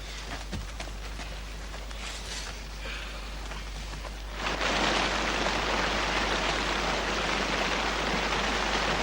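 Rain patters lightly, then swells abruptly into a louder, dense downpour roaring steadily for the remaining seconds.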